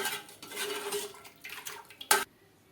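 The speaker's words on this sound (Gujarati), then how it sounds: "સારી રીતે તેને મિક્સ કરી દઈએ." Gujarati kadhi of buttermilk being stirred in a pot with a metal spoon, soft scraping swirls followed by a sharp clink against the rim near the end.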